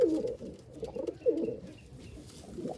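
Punjabi Malwai pigeons, a male and female pair, give soft repeated coos at close range in a steady throaty rhythm over quiet background noise.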